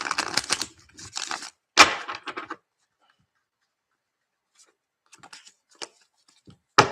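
Tarot cards being sorted and handled close up, with dry shuffling and flicking rustles in short bursts, a quiet pause, then a few faint taps and slaps.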